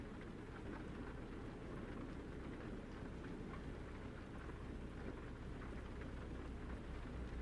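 Steady rain drumming on a truck cab in the American Truck Simulator game, a constant hissing wash under the low engine hum, with no voices.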